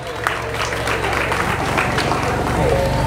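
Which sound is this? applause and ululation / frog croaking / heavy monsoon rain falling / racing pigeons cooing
applause and ululation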